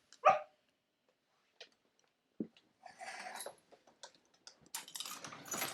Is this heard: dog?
yes